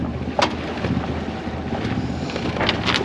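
A steady low engine drone with wind buffeting and water swishing from a sailboat motoring under engine power at sea in the Balearic route off Spain, with occasional brief clicks.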